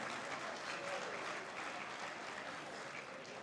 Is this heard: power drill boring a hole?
no